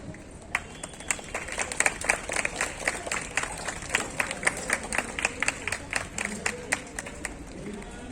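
Scattered audience clapping at a primary school's annual function in Vadodara, a steady run of individual claps over a murmuring crowd, moderately near and continuous throughout.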